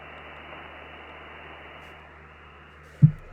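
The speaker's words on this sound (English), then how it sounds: "You hear that hum? All that noise?" A QRP ham radio receiver, an Elecraft KX2, gives off a steady low hum with a wash of hiss, faint and continuous, broken by two short knocks at the end.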